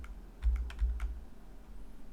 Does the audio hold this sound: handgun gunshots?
no